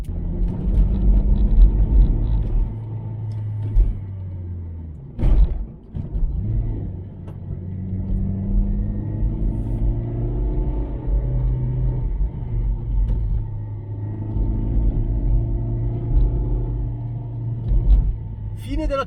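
Honda CR-Z with a Spoon N1 exhaust and sub silencer driving uphill on a mountain road, a low droning engine note rising and falling through gear changes, with a brief burst of noise midway.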